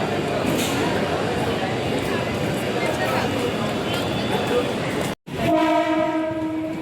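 A Virar to Borivali local train rumbles steadily with broadband rail noise, then after a brief dropout a sustained horn blares with layered tones. Voices are faintly mixed in.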